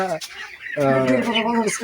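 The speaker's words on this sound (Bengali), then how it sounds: "আমরা চলে আসছি সেই মুরগির ফার্মে।" Chickens at a poultry farm cluck and squawk close up in a short, busy burst of calls.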